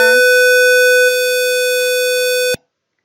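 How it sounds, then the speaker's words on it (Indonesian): A loud, steady electronic buzzer tone from a water level indicator circuit, with a harsh harmonic edge, drones for a couple of seconds, then cuts off abruptly into silence. "menghasilkan bunyi dari buzzer atau indikator yang kedua ini"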